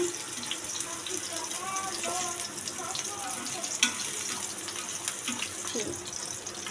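Egg mixture frying in a pan, with a steady moderate sizzle, occasional clinks and stirring, and a brief sharp knock near the middle.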